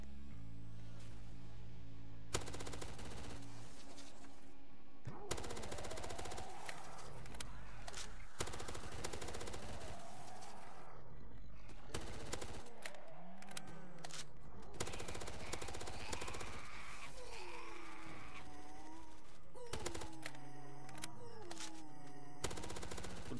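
Rapid gunfire from a PDW-R in the Roblox game Zombie Uprising, bursts of automatic shots crackling against game music and effects, fairly quiet overall with repeated short volleys throughout.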